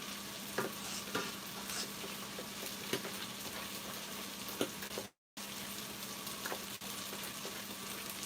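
Shito, a hot pepper sauce, stirred in a pan while it fries: a steady close sizzle and bubbling under repeated soft scraping strokes of a spoon, broken by one brief dropout.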